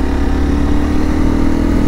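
A Honda CRF300 Rally motorcycle with its stock exhaust pulls at full throttle, giving a loud, steady, close engine drone without pauses or talk.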